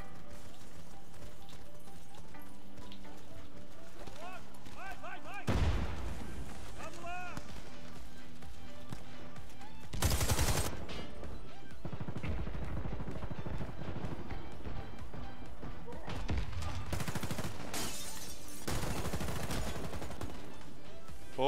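Gunfire in Warface's Blitz mode, with sustained rapid shooting and several loud bursts over a busy game soundscape, with voices talking over the action.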